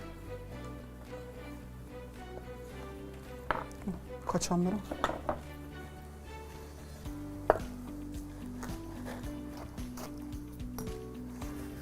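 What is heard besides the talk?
knife chopping the white parts of green onions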